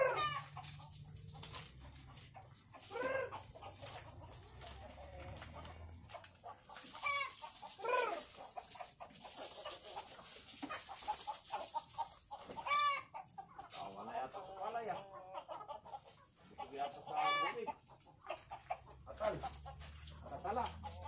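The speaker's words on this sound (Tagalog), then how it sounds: "Ito na po yung manok ni Tito Cesar, nag-aabang na po" Chickens clucking and calling repeatedly nearby, with occasional louder squawks and a person talking at times.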